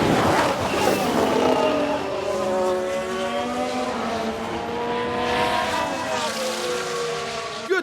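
Formula 1 race cars in the F1 Manager 22 racing game, set in a 1991 season: high engine whines sweep up and down as cars pass and accelerate, fairly loud over a continuous rushing track ambience.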